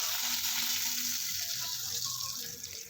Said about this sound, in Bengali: আর একটা পিঠ উল্টে দিয়ে আর সেটাকেও কিছুক্ষণ ভেজে নিয়ে তুলে নিচ্ছি